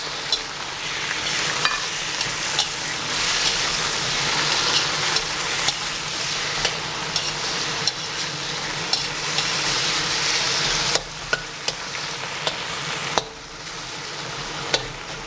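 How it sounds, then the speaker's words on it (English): Prawns stir-frying with chili paste and garlic for char kuay teow, a steady loud sizzle with scraping stirs and light clinks of a utensil against the pan throughout, dipping briefly near the end. "And then you fry quickly the prawns."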